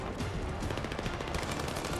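Gunfire in the Battlefield 6 open beta: a loud, close burst of rapid shots, dense and continuous for about two seconds with no talking.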